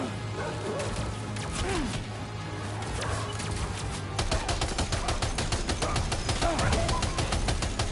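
Gunfire in the video game Death Stranding 2, a steady rapid stream of repeating shots that grows denser and louder halfway through, with a voice faintly underneath.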